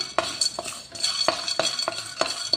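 Turmeric root being dry roasted in a pan for sambar powder, heard as repeated scraping stirring strokes with light clinks and a faint sizzle, close and rhythmic without any speech.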